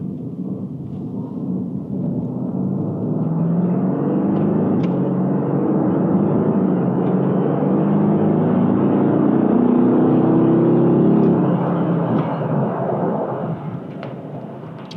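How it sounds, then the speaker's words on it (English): A 2020 Mercedes-AMG GT R engine accelerating, a deep continuous roar building and holding loud for over ten seconds, heard from inside the car with no talk over it. "We're just gonna get on the accelerator a little bit and listen."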